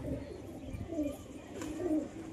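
Low, throaty cooing of a male red pigeon, a few soft rolling coos rising and falling over about two seconds, close by and fairly quiet against a faint background murmur.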